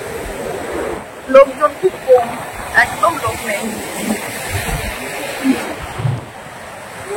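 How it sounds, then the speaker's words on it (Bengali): Sea waves at Yarada Beach near Dolphin Nose in Visakhapatnam make a constant broad wash of surf, mixed with wind buffeting the microphone. A person speaks briefly over the roar. "সমুদ্রের আওয়াজটাই বেশি শোনা যাবে।"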